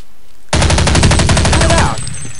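Rapid automatic gunfire from Counter-Strike 1.6, a loud, close, continuous burst of evenly spaced shots lasting about a second and a half, then cutting off into quiet background noise.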